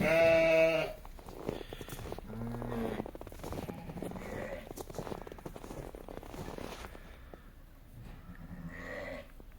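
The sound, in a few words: young sheep bleating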